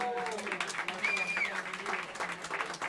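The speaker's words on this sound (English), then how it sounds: "Have a round of applause for him." A live audience at Smalls Jazz Club in New York City applauds the trio's drummer, a moderate wash of clapping running for a few seconds beneath an announcer's voice.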